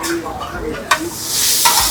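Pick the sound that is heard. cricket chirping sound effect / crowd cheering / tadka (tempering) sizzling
tadka (tempering) sizzling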